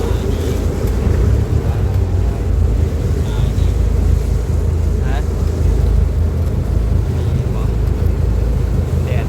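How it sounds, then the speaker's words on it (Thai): A tugboat moves along the river near Asiatique in Thailand, giving a steady, continuous low rumble mixed with water and wind noise throughout. "าเรือลากจูงกำลังตามไป"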